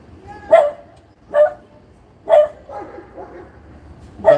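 A dog barks in a scuffle outdoors, four loud separate barks spaced about a second apart, with fainter yelping and whimpering between them and no talk.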